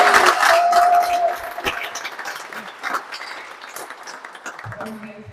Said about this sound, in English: Can we have a round of applause for Jonny?